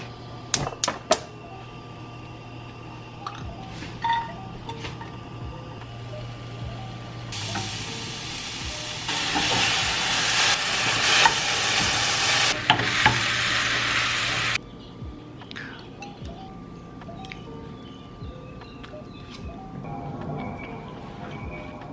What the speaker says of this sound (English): usually I just like to saute everything in a frying pan